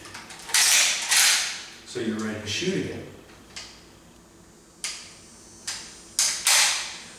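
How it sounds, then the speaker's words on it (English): Rounds are loaded one at a time through a loading gate into the tube magazine of a lever-action style rifle. Several close metallic clicks and snaps come in uneven succession, with someone speaking briefly between them. "then you have to load 6 more rounds in it, one at a time through this door"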